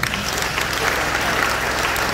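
A church congregation applauds the Lord in a dense, steady burst of clapping from many hands, loud and sustained throughout.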